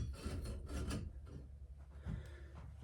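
A ball nut is tightened by hand on a Coleman 220H lantern, giving close, quiet rubbing and rasping scrapes in short bursts, with a brief pause before a final gritty twist.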